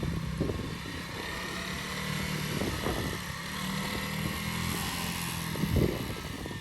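Honda CRF300L Rally motorcycle engine rising smoothly under a steady roll-on throttle, a continuous close drone with wind rush and no talk.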